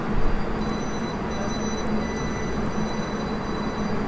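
A WKD commuter train pulls away from a Warsaw station with a steady low rumble and faint electric whine, wheels rolling continuously at moderate distance with no voices.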